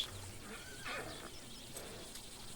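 A horse in Red Dead Redemption 2 gives a brief whinny in the game, a short neigh standing out over a low ambient bed with faint hoof-like noise, no talking.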